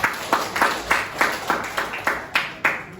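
A classroom claps for a student, slow and fairly even, about ten claps in three seconds, heard close with little else around it.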